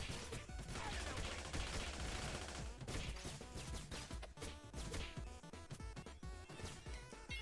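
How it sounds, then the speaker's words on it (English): Missiles blast in dense succession during a Teenage Mutant Ninja Turtles: Shredder's Revenge match on Nintendo Switch, loud crashing impacts piling over busy game sound without pause. "Ooh, Mondo missiles!"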